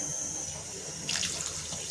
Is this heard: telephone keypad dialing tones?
no